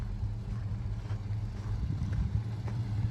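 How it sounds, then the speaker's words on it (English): A 1979 Camaro with an all-new exhaust warms up at idle, a deep, steady rumble heard from close by with some wind buffeting the microphone. "All new exhaust, everything brand new."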